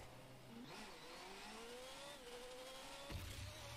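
A Formula 1 car engine in the video game Rocket League revs steadily with a thin rising and falling whine, heard quietly against a dense, constant background hiss and ending with a short thump.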